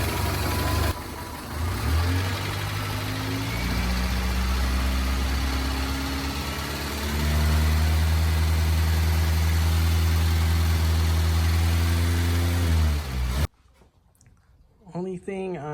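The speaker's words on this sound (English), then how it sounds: "Okay, so it's idling like a champ." A 1976 Toyota Celica engine idles steadily and loudly up close, its low rumble shifting pitch slightly midway before cutting off abruptly near the end, leaving near silence.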